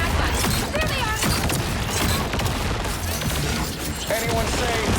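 Dense bursts of fireworks-like explosions and crackling blasts from the video game Marvel Rivals fire in rapid succession, loud and close, with game effects layered over them.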